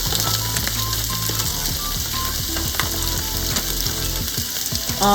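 Fajitas sizzle and fry steadily in a hot pan, a loud continuous crackle punctuated by quick ticking pops and a few scraping clicks, with no voices.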